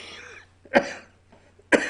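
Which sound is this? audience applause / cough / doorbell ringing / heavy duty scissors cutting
cough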